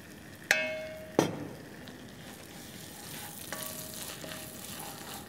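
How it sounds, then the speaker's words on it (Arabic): Vermicelli is toasted in oil in a pan with a steady, soft sizzle. Two sharp metallic knocks from a utensil striking the pan come early, then lighter scraping and stirring follow. "بدي أحمص الشعيرية لحتى يصير لونها أشقر ذهبي بسرعة كثير"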